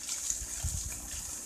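Water flowing into a small earthen dam dug beside banana plants on a rural farm, a steady gushing rush with a low bubbling undertone, brief and continuous, with no talk over it.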